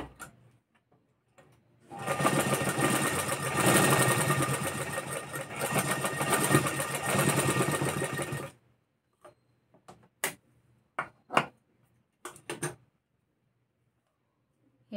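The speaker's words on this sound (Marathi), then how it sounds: "आता शिलाई मारून घ्यायची आहे।" A sewing machine stitches a blouse in one fast, steady whirring run of about six seconds, followed by quiet pauses broken by a few short clicks and taps.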